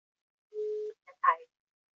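A telephone call is dialed, with a single steady tone held for about half a second and then a short burst of mixed ringing tones, close and clean against silence.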